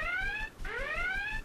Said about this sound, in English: Oh my god, that alarm!